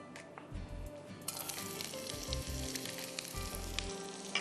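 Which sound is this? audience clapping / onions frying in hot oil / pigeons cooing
onions frying in hot oil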